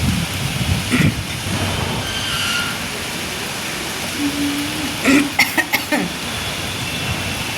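A heavy rainstorm with thunder, loud steady rain pouring on surfaces with deep rumbles and a few sharp gusty bursts, close and continuous, no speech.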